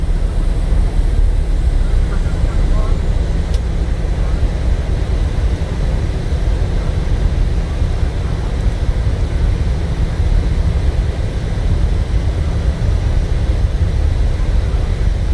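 An aircraft's engines during the full takeoff procedure in Microsoft Flight Simulator, a steady loud low roar holding constant throughout without clear change.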